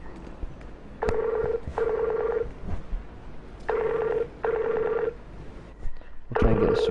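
A Skype call rings in two pairs of loud, warbling bursts, each about half a second, with quiet gaps between them and a further burst starting at the end over faint background noise.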